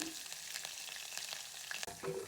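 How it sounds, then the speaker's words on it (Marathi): Cumin, mustard seeds, curry leaves, green chilies and garlic sputter and crackle in hot oil for a Khandeshi kadhi tempering, a steady close sizzle with quick pops and a sharp hiss burst near the end. "कढीला चांगली फोडणी बसू देऊ आणि त्याच्यात कढीपत्ता टाकू, हिरवी मिरची 2"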